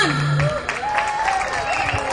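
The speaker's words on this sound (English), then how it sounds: "Some more claps, come on." An event audience claps and cheers together in a dense, sustained wash of applause, with a voice briefly heard over the crowd.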